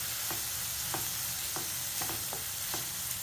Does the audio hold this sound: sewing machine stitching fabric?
no